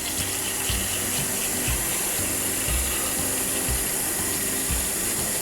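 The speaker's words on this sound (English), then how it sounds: "Use your toothbrush, clean each part." A toothbrush scrubs small GE water softener venturi parts beside a running sink, giving rhythmic bristle strokes roughly twice a second over a steady wash of flowing water, close and fairly loud, with no talking.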